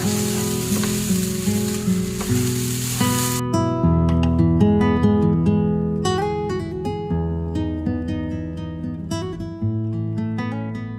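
Continuous loud sizzling of rice frying in hot ghee and coconut oil, crackling and popping close up, with occasional scraping stirs and no talking.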